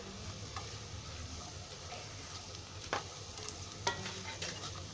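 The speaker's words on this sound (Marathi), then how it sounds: "आता कांदा भाजला आहे, ह्याच्यामध्ये आहे ना हा गाजर टाकते मी पहिला." Carrots stirred into frying onions in a pan, a faint steady sizzle with a couple of soft utensil taps and scrapes near the end, quiet and close.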